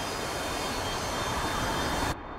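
A MiG-29 jet in a flight simulator game taxis with a steady, loud whining engine roar that cuts off abruptly near the end.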